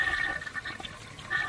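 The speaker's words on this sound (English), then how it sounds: "Throw some toilet paper in there. Give it a flush." A toilet flushes close by with toilet paper in the bowl, giving a continuous rushing, swirling wash of water throughout the short stretch, with no voices.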